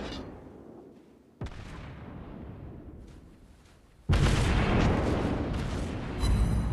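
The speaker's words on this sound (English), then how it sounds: "Target hit! Destroyed enemy ship!" Naval guns fire at an enemy ship in the World of Warships Blitz game, piloting a USS St. Louis: a sharp boom, then a rumbling roar and a louder sustained blast of explosion noise.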